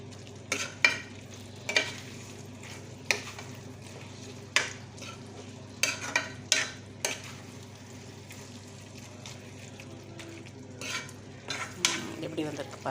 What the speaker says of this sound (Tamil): சேர்த்துட்டு பச்சை ஸ்மெல் போகிற வரைக்கும் வதக்கி எடுத்துக்கலாம்.